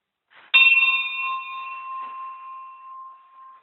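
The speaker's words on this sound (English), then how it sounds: "Bell, last orders." A bell rung once for last orders in a pub, a sharp strike followed by a long, clear ringing tone that slowly decays, close and alone.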